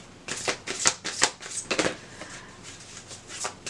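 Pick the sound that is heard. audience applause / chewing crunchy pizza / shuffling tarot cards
shuffling tarot cards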